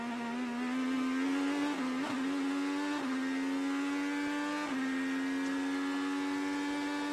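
IndyCar race car engine lapping the Circuit of the Americas at a steady high pitch, holding a loud, continuous drone with brief dips at gear shifts.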